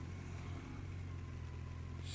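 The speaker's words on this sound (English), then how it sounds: "I can hear the sound of my engine." A car engine idles steadily in a traffic jam, a low, constant hum and rumble held at an even, moderate level throughout with no voices.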